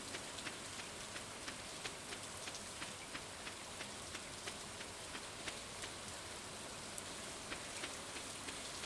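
Steady, quiet rain in the Stardew Valley video game, a soft continuous hiss dotted with light, evenly spaced drip ticks.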